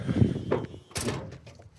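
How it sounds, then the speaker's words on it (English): A single door shuts with a solid thunk in a garage setting, where a 351M engine is being worked on. A person's voice is heard just before the close. "Close the door."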